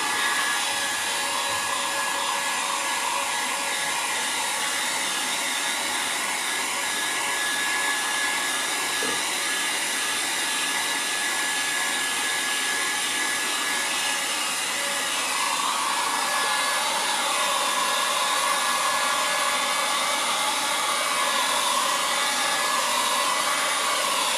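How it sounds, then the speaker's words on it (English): A hair dryer, used to dry decoupage work on faux leather, blows steadily with a loud, constant whooshing hum that runs without pause, its tone shifting slightly partway through. "let me just use my dryer"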